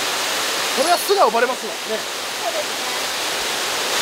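A powerful waterfall at Sugao Falls in Fukuoka roars as a steady, loud wash of broadband noise throughout, while people talk briefly over it near the middle.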